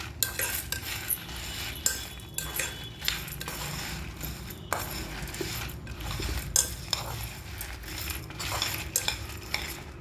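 Spices for sambar powder being dry roasted in a pan and stirred, with a steady scrape and clink of a metal spoon against the pan and faint crackling, repeated irregularly for several seconds.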